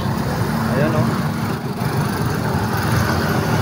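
Steady roar of road traffic with idling car and truck engines on a busy street in Makati, a dense low rumble throughout while someone talks over it.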